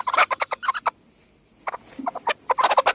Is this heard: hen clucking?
yes